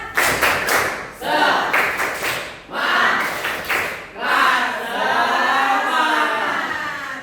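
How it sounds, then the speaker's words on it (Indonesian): A classroom group claps together in a quick, patterned cheer rhythm, several bursts of sharp claps repeating in sequence, close and lively. "Tepuk semangat."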